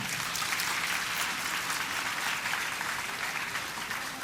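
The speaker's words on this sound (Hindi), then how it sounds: "तालियां रुकनी नहीं चाहिए" Steady applause from a crowd, dense clapping that holds at an even level throughout with no voices standing out.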